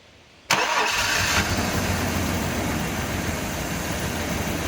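An old Chevy S10 pickup engine cranks and catches with a sudden loud start, then settles into a steady, rough idle that runs close and continuous with no talk over it.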